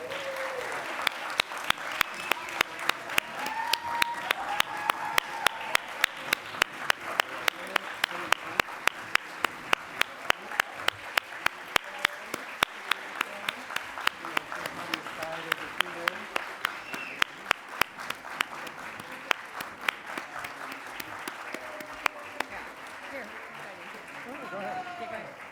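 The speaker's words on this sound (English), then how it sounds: "Please give them another big round of applause." Steady applause from the audience at the Broadcom MASTERS 2022 student awards ceremony, a dense continuous clapping crowd held throughout at an even level with a speaker's voice over it.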